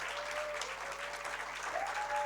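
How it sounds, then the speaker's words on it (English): An audience at a sustainable design expo gives a round of applause, a dense, steady wash of clapping. It is heard from a distance, with a faint steady hum underneath. "Please, can we give her a round of applause?"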